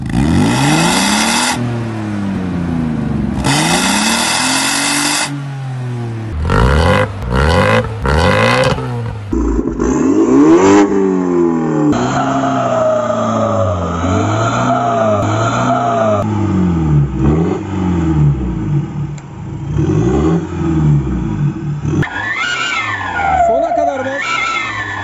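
A car engine revs repeatedly during a roadside traffic inspection in Konya, loud and close, its pitch climbing and falling in a series of throttle blips.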